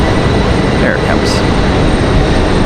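A JetBlue airliner rolls down the hill on the taxiway at Raleigh-Durham airport, its engines a loud, steady broadband rumble close by throughout the short stretch.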